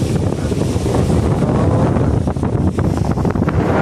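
Strong wind buffets the microphone in a loud, continuous roar on the Black Sea shore at Constanta, Romania, with the wash of surf faintly beneath it.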